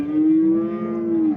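At the Rishton livestock market, a cow that calved the day before lets out a single long, low, steady moo, close and clear, lasting over a second.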